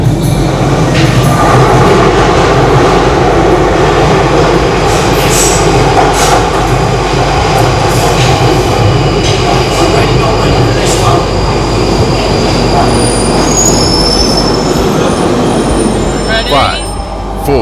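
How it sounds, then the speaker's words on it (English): London Underground train pulling into a platform, a loud sustained rumble and rush of wheels and carriages filling the whole stretch, with some squeal and clatter and a sharp burst near the end. "After waiting quite a while, our train is here."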